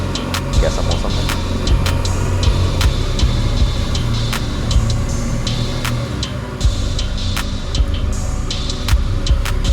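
A Royal Enfield motorcycle engine rumbles steadily while riding, loud and close, with wind and road noise mixed in and a voice speaking briefly over it.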